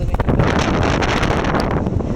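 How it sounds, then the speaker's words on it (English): Strong wind blowing around an outdoor shelter site, roaring steadily and buffeting the microphone throughout, loud and close with no other clear sounds. "it's still windy"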